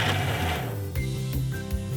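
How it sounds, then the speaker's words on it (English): A mixer grinder blending dosa batter with spring onions in a small jar, a loud continuous whir with shifting pitch that fills the whole moment. "So I'm just going to close this and then blend to make another smooth mixture"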